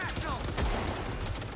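Turret gunfire in the video game Cyberpunk 2077, a dense burst of rapid shots with a heavy low thump near the middle, loud and continuous over a busy game soundscape.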